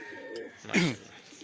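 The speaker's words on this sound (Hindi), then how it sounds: "सुर्ख पंजाब कबूतर है मेरे पास" A red Punjab pigeon gives a single soft, throaty coo up close, a brief rolling call rising and fading within a moment against quiet room noise.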